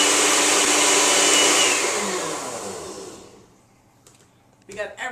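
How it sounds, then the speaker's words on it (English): A blender whirs loudly and steadily while mixing a fruit smoothie, then spins down and stops. A voice briefly starts talking after it goes quiet. "We got everything really nicely blended up in here."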